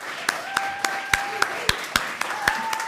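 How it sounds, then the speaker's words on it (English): Sparse, distinct claps ring out in a steady rhythm as an audience applauds sailors from the USS David Ray, with a tonal hum running underneath. "I want the gentleman from the USS David Ray to stand up because we want to applaud them for their service."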